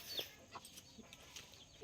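Chickens raised on a farm cluck in short, scattered bursts at a moderate distance, soft and irregular with quiet gaps between calls.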